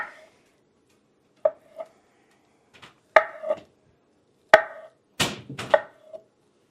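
A knife cuts vegetables on a cutting board in a quiet kitchen, several sharp, irregular chops and taps close by, with pauses between strokes.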